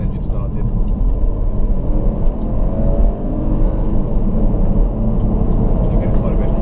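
A BMW 330e plug-in hybrid driving in sport mode with both its petrol engine and electric motor running, giving a steady low engine drone and road rumble from inside the cabin while a voice talks over it.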